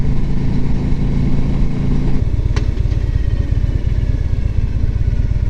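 Engine of a 2011 Harley-Davidson Ultra Classic Limited motorcycle, a loud, close, rough throb that shifts into a faster steady pulsing beat as it accelerates.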